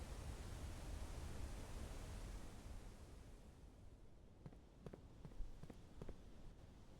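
Footsteps of a player walking in the Blue Prince video game: soft, evenly spaced steps come in halfway through, faint beneath a steady broadband rush of water that fills the opening seconds.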